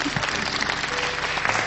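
A studio audience at a Romanian TV show applauds, dense continuous clapping at steady loudness for the whole short stretch.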